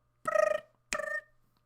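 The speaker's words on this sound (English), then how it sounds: "Phone call coming through. Private number." Phone ringing with an incoming call from a private number, two short clear electronic ring bursts separated by a brief pause, fairly quiet and alone.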